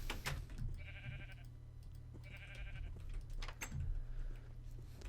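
Sheep bleating in Minecraft, played on a Feed The Beast multiplayer server: two clear, wavering bleats in quick succession, then a fainter third, over a low steady hum with light clicks.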